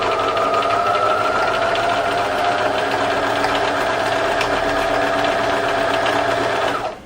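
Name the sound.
sewing machine stitching to secure lace, paper and cloth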